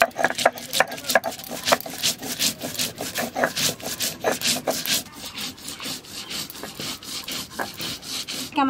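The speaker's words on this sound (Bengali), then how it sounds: "মাছ বাপানোর জন্য সরষেটা বেটে নিই।" Homegrown mustard seeds ground by hand for a hilsa fish dish, a rhythmic scraping and rubbing stroke repeated steadily up close, with faint voices in the background.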